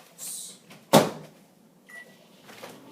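A microwave oven door shuts with one sharp, loud clunk in a kitchen where potato slices are being cooked into chips, followed by a brief faint electronic tone and quiet room noise.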